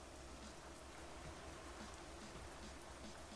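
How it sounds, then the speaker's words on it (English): Steady rain in Euro Truck Simulator 2, a broad even hiss of drops drumming on a surface with a low rumble beneath, continuous and fairly faint throughout. "Excellent sound. Nothing like a bit of rain."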